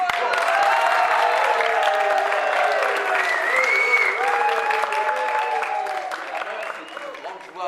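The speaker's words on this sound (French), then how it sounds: "Et je me permets d'appeler sur le plateau Monsieur Eddie Wallace, sous vos applaudissements" A studio audience at a live French stage taping applauds loudly and steadily for several seconds as a guest is called onto the set, the clapping tapering off toward the end.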